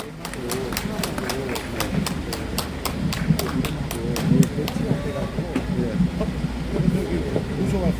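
An outdoor rally crowd claps to welcome a speaker, a scattered run of sharp individual claps over a murmuring crowd and background noise, fairly distant and uneven.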